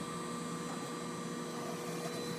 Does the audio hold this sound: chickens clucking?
no